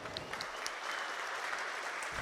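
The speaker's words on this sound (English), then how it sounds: "Some applause." A conference audience at a Drupal event gives a dense, continuous burst of applause, many hands clapping at once and filling the room for a couple of seconds.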